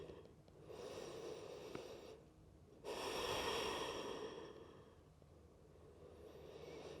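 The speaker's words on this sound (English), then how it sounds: "Take a deep exhale." Slow, deep breaths during a restful yoga practice, two long audible exhales and inhales close to the microphone, soft and airy, with quiet gaps between them.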